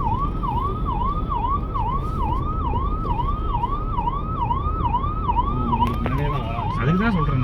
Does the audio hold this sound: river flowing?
no